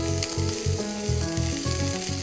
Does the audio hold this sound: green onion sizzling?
yes